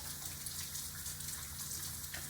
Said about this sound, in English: Once your hands are soapy, stick them back under the water and continue to scrub.